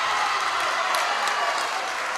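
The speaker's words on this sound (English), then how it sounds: "Home crowd excited." Home crowd at a high school boys basketball game cheering and clapping, a loud, dense, sustained roar of applause filling the gym.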